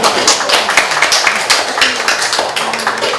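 Audience applause at a conference on basic livelihood security: a crowd claps in a fast, dense patter of overlapping sharp claps, steady and fairly loud throughout.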